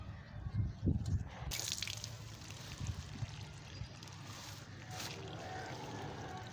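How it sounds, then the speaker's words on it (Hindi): Water is poured from the side onto the soil of a potted tuberose bulb, giving soft trickling and dripping close by with a few louder splashes early on and no talk. "इसके ऊपर से पानी नहीं देंगे, साइड से पानी देंगे।"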